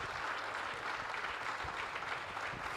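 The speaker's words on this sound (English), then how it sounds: "give a very resounding round of applause to" Conference audience applauding its speakers at a Nigerian federalism event, a fairly quiet, continuous wash of many hands clapping at a steady level, with no speech on top.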